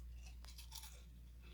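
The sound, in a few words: biting crunchy elderberry flower fritters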